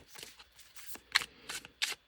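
A deck of reading cards is shuffled during a rapid-fire moon reading: close, crisp riffling bursts come in quick uneven flurries, with short pauses between them and no talking.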